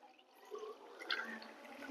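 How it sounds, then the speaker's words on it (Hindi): Water poured from a container into a glass during a classroom activity, a short soft splashing trickle heard close up with no talking. "अब मैं इसके गिलास में पानी डाल रहा हूं।"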